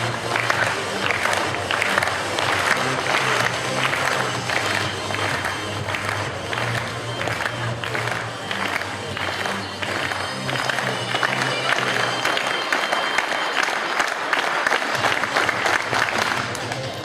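A stadium crowd at a Bigbank Kuldliiga athletics meet claps rhythmically in unison to support a Ukrainian long jumper, a sustained steady beat of applause under a commentator's voice.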